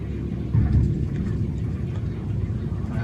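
Cessna 152 touching down at idle thrust on a runway, heard from inside the cabin as a steady low engine and wind rumble with a brief louder bump near the start.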